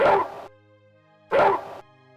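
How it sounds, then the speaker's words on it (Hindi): A cartoon dog barks loudly in the night at would-be thieves, two separate bursts of barking with a short pause between them and no talking. "वह जोर जोर से भौंकने लगा।"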